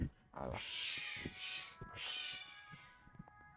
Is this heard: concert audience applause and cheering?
no